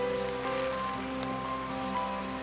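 Rain falls steadily at a street crossing on a typhoon day, making an even hiss with a few louder drops and no voices.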